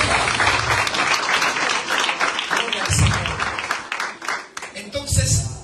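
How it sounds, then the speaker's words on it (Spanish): A church congregation breaks into loud, dense applause, sustained clapping from many hands that swells and dips, with voices and cheers rising within it. "¿Cuánto me le da un aplauso al Espíritu Santo de Dios?"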